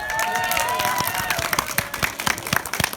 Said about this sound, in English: Well done, Amy. Clap for Amy.